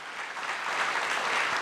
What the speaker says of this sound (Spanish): reitero el pedido de un fuerte aplauso para los tres